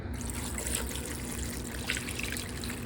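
Liquid pours steadily from a can into a slow cooker while making jambalaya, a continuous trickling splash over a low background hum.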